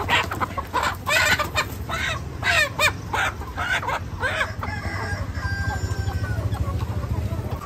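Chickens cluck and squawk repeatedly close by, with a rooster-like call among them over a steady low background rumble.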